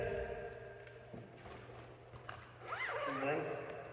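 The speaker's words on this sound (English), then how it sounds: "And then zip it up." A zipper is pulled shut on a storage bag holding a door from a 2022 Ford Bronco Wildtrak, in one quick close rasp that rises near the end, with a person speaking lightly around it.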